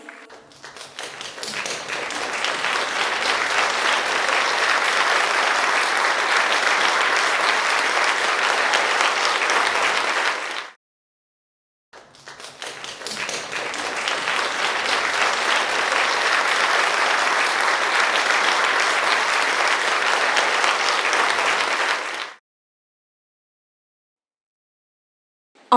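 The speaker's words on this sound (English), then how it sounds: "A big round of applause, please." A large audience at a foundation's hundred-year celebration breaks into a big round of applause, two long bursts of sustained clapping with a brief silent gap between them, then silence at the end.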